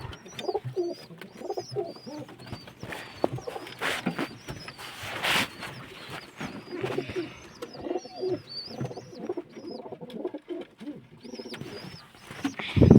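Several pigeons coo in soft, repeated throaty phrases close by, overlapping one another, with occasional flutters and rustles.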